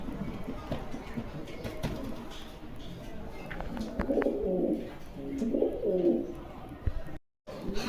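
Yellow Sirazi Lahori fancy pigeons coo in low, rolling bursts close by, with faint voices and rustling around them.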